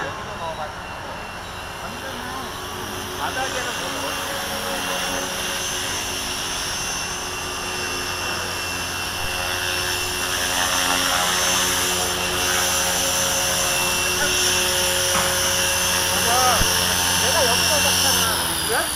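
A small radio-controlled helicopter's rotor whine hums steadily throughout in morning flight, with a high buzzing drone that swells slightly, while people talk nearby.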